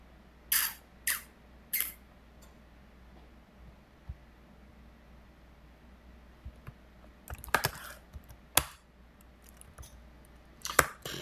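Keys clack on a computer keyboard as a terminal command is typed, in sparse bursts of sharp clicks separated by quiet pauses, close and faint.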